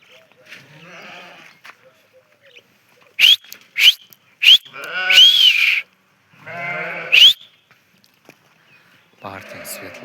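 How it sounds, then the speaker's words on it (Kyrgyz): Young female Arashan lambs bleat several times at close range in short, sharp calls, some overlapping, with quiet farmyard noise in the gaps and someone speaking briefly. "Мына козулар."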